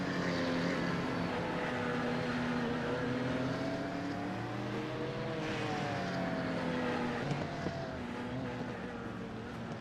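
A Ford Mustang race car's engine in iRacing, droning steadily with harmonic tones that rise and dip as the throttle is worked, loud and continuous with no talk over it.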